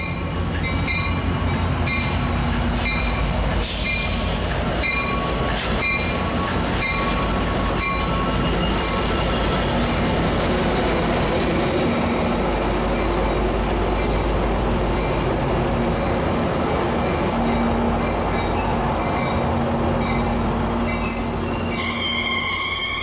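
A Metrolink commuter train passes close by for the full stretch, its steady loud rumble of wheels on rail laced with high metallic squeals and a few sharp clanks, with no voices.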